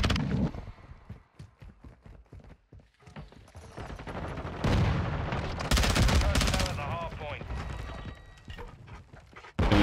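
Rapid bursts of Vel 46 submachine gun fire in Modern Warfare 2 multiplayer, dense repeated automatic volleys dominating the second half, with sparse shots and a voice talking over the game sounds earlier.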